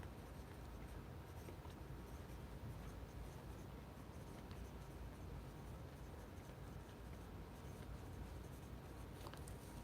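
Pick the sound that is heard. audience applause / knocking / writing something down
writing something down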